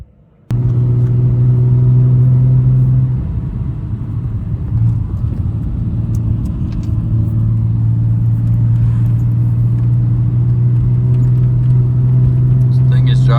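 Nissan Skyline R34 GTT idles and drives after a steering hub and wheel install, with a steady close engine hum and rumble starting abruptly, shifting slightly as it moves, loud throughout.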